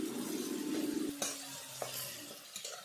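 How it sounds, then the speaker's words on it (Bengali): Spice paste of red chilli and turmeric powder with tomato sizzles in a pan while a spatula stirs and scrapes, with several sharp metallic clinks over a soft hiss and no speech. "মশলাটা আমার ভালোভাবে কষানো হয়ে গেছে।"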